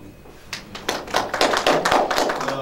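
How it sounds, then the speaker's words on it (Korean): Clapping from a small audience at an internet governance forum session starts after a brief pause, with separate hand claps that quickly thicken into brisk, uneven applause. "박수"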